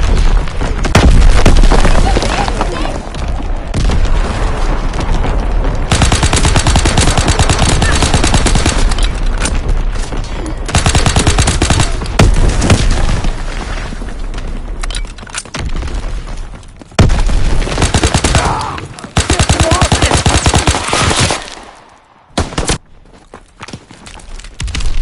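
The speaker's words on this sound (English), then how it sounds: "Incoming enemy artillery!" Artillery blasts and gunfire in a Call of Duty WWII battle rattle on almost without pause, with dense loud booms and bursts of automatic fire that thin out briefly near the end.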